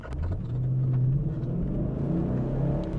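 A 2014 Ford Mustang GT with a 5.0 engine and manual transmission cruising, a loud steady low engine drone with a slight rise in pitch early on, close and continuous.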